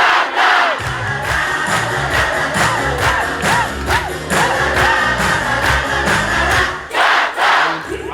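A Brazilian home crowd at a beach volleyball Elite 16 event in João Pessoa chants and cheers for Qatar, a loud, dense mass of rhythmic voices with rising shouts, sustained throughout.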